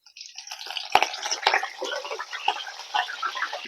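Curry leaves dropped into hot oil in a heated kadai for prawn curry give a steady crackling sizzle, with two sharp pops early on, close and moderately loud, with no talking.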